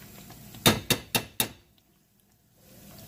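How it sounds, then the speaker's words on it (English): A metal lid is set back onto a pot of cooking beans on a stovetop, making four quick clinks and clatters in close succession, near and fairly loud, followed by quiet. "And then I'm going to put the lid back on just so they can continue to cook up"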